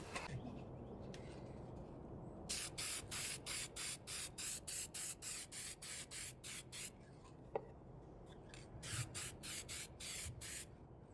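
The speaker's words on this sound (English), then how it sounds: "I'm going to spray paint this black and then carve it out." A spray paint can coats a board black indoors, sounding as a series of close, rhythmic hissing bursts in two runs over a quiet room hum, with a faint click partway through and no talking.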